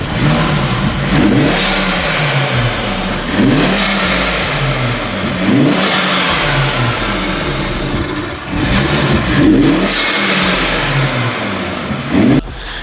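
A Stage 2 tuned Audi RS3 engine, tuned by DK Tuned and fitted with a thick-diameter turbo inlet pipe, is revved repeatedly. Loud, close rising and falling rev sweeps repeat in a steady rhythm, with no voices.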